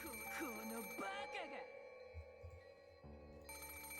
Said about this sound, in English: After a short while, the phone rang again.